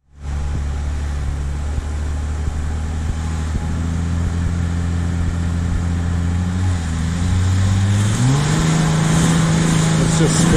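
A Jeep Gladiator stuck on the Outlaw Trail in West Virginia revs its engine steadily as its wheels spin in place, the drone holding loud and close before climbing in pitch near the end.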